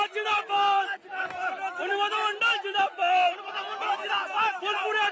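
A dense crowd of supporters cheers and shouts in a festive welcome for a returning leader at his home in Nichupatti, the voices close and overlapping in a continuous loud roar with sharp bursts.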